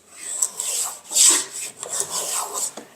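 Hand tool shaving a wooden chopstick blank, a series of close, raspy scraping strokes in an uneven rhythm of about five or six passes, each a bright rough hiss with short pauses between.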